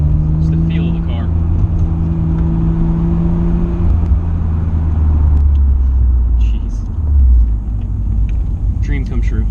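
Midnight Purple Nissan Skyline R34 GTR being driven, a steady low engine rumble with tonal drone that shifts pitch midway, close and continuous, with occasional faint voices over it.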